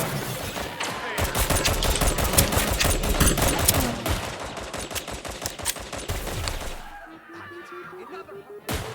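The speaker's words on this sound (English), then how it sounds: "We're definitely shooting Doug in the back here." Gunfire in the video game Deceive Inc rattles off in dense rapid volleys of sharp shots, loud and continuous for most of the stretch before easing near the end.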